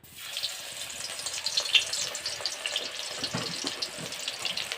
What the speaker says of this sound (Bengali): এটাকে শুধু আমি বেগুনটাই ভাজছি এখন